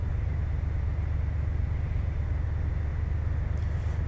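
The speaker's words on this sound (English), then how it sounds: "Big old engine loping." Steady low, throbbing drone of a charter plane's engine loping in flight over the Grand Canyon, loud and continuous throughout with a pulsing low rumble.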